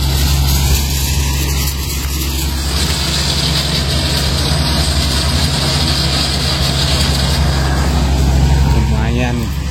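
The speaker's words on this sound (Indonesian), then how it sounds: "Oh, ada mesin motong rumput." A lawn mower engine runs nearby on a Saturday morning in an Indonesian neighbourhood, a steady low drone that persists throughout under outdoor ambience, with people talking over it.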